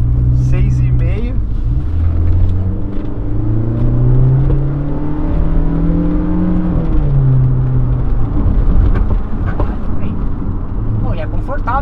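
Steady engine hum and tire drone from inside a moving Volkswagen Tiguan turbo, rising and falling gently with speed, while people talk over it.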